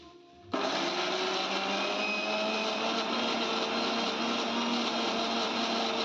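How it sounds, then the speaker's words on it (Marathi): A mixer grinder switches on after a short quiet moment and runs at a loud, steady whine and roar, grinding sprouted green moong into batter, continuous to the end with no talking. "चला तर मिक्सरला वाटू"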